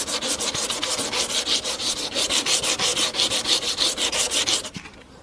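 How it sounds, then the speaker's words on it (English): Someone hand-sands the body of a 1979 Honda Prelude with 180 grit sandpaper, a loud, rhythmic rasping of quick back-and-forth strokes for about five seconds before stopping. "I have a 180 grit, and this is how we're just gonna work it."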